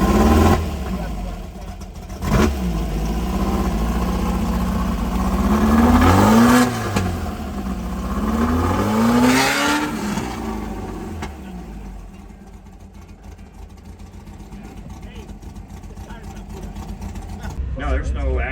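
The engine of a 1967 VW Bug A/MC drag race car fires up and revs at a drag strip, with loud bursts and rising revs that then settle into a rough idle. People talk nearby.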